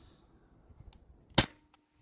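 Sabre 68 CO2-powered home defense launcher firing a T4E rubber ball: one sharp, close pop in a quiet setting, with a faint click shortly after.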